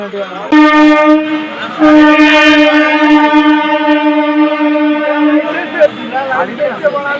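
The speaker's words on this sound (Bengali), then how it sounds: "এখন ট্রেন আসছে তাই বন্ধ যাওয়া, ট্রেন চলে গেলে গেট খুলবে।" A Howrah–Tarakeshwar local train passes a closed level crossing at night, its horn blaring loud and long for several seconds over rumbling and faint nearby voices.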